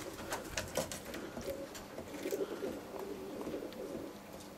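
Roller pigeon hens coo softly and repeatedly, a low rounded murmur close by, with faint chirps and rustling in the background.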